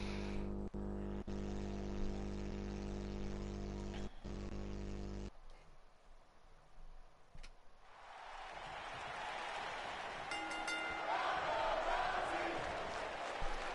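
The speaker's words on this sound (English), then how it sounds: "Every time you put Ronda Rousey in a match, the crowd always chants for her right off the bat." Arena crowd noise from the WWE 2K19 wrestling video game, a sustained loud roar of chanting and cheering that swells in the second half, after an opening stretch dominated by a steady tonal hum.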